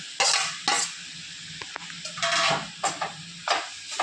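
Boiled banana flower is stirred in oil in a pan, with a spoon making repeated sweeping scrapes and a few sharp clinks against the metal over a low, soft sizzle, close and alone.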